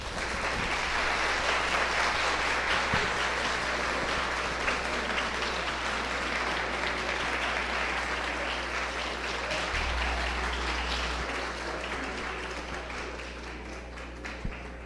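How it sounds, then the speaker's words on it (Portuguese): An audience at a municipal public hearing on health fund accounts applauds steadily for about fifteen seconds, a dense sound of many hands clapping that slowly fades, with a low hum underneath. "Eu quero fazer minhas as palmas e os aplausos"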